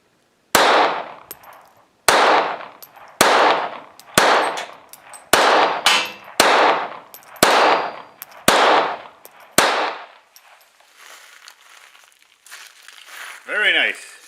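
Nine sharp reports from a Smith & Wesson M&P 22 pistol firing cheap .22 ammunition ring out about a second apart, each followed by a short decaying tail, then fade into quieter handling noise and a brief rising whine.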